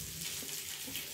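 Water poured into a bowl of soy and chilli sauce mixture while making chilli chicken: a short, soft, steady splashing trickle lasting about a second.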